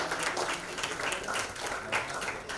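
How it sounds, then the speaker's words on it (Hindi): Audience applause at an award ceremony for nursing and paramedical institutes, greeting the release of a booklet and souvenir guide; a steady, dense wash of clapping from a hall crowd. "इसके लिए भी शुभकामना रूपी जोरदार तालियां होनी चाहिए"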